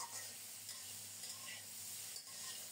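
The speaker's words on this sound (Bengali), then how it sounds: "আলুগুলো লালচে করে প্রায় ভাজা হয়ে গেছে।" Boiled potatoes frying in a pan until reddish for a rohu fish curry, a quiet, continuous sizzle with faint stirring and no voices.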